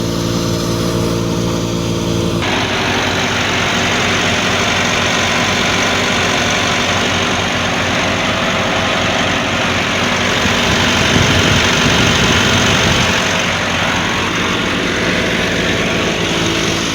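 A 2010 Massey Ferguson 375 tractor with a WSK pump drives a 2015 Hudaibiya wheat thresher, a loud, continuous engine drone with machinery rumble that holds steady, thickening briefly near the end.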